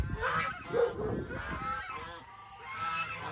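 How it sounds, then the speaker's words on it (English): A duck with a distinctive quack calls out on a Texas ranch among geese, its honking, goose-like cries repeating loudly and close over a busy farmyard background. "Duck Duck has a special quack"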